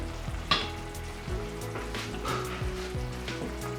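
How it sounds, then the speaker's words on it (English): Shrimp cooking in a boiling coconut milk and lime juice sauce, a steady bubbling sizzle with a low hum beneath and a few light knocks and stirs, no speech. "My sauce has come to a boil, so it's time to add the shrimp."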